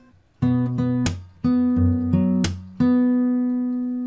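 Acoustic guitar notes ring out with sharp percussive slaps between them, a short picked-and-slapped phrase from a fingerstyle arrangement ending on a sustained chord.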